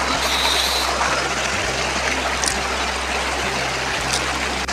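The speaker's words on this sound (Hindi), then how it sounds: "यार सुनो आवाज, नदी की आवाज सुनो।" A clear river streams past, its water a steady broadband rush close by with a low hum underneath, continuous and alone with no voices.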